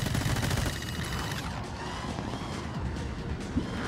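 Enemy gunfire in My Friend Pedro crackles in dense, rapid bursts, loudest at the start and then continuing as a quieter rattle of shots.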